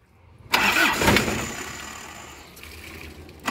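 An Isuzu Panther car engine cranks and catches with a sudden roar, then settles into a steady running hum; no one speaks.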